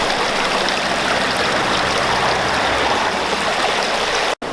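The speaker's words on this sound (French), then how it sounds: "Par contre là ça fait plutôt sympa parce que l'eau bouge." Water moving in a stream sends up a steady, close, full rushing and gurgling that carries on without a break, cut off abruptly at the end.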